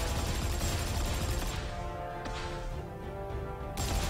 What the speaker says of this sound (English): My fury is that of machine gun bullets.